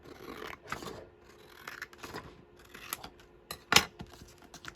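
A craft base piece is cut down by hand in a series of quiet, irregular snips and rasping scrapes, close up, with a sharper click near the end and no talk.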